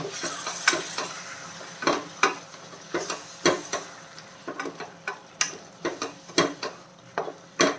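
Pepper chicken cooking in a pan after about three quarters of a cup of hot water is added, with repeated sharp stirring clacks and scrapes over a soft, steady sizzle.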